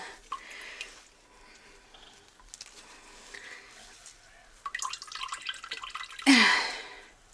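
Whey drips and trickles from paneer being squeezed in a cloth, with scattered close drips and small splashes, a brief louder gush near the end.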